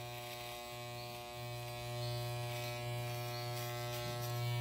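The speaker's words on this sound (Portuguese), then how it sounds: "tem que passar sempre a maquininha com a ponta" Electric hair clippers with a comb attachment buzz steadily and closely during a fade haircut at a barbershop, a constant motorized hum that rises slightly in loudness as the clippers move through the hair.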